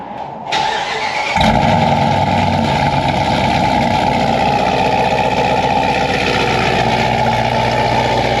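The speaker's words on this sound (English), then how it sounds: "let's get a cold start with that new exhaust." A Jeep Grand Cherokee Trackhawk with a built motor and new exhaust cold-starts: a brief starter whir, then a sudden loud roar that settles into a steady, rumbling high idle, close up.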